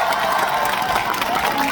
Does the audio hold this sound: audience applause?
yes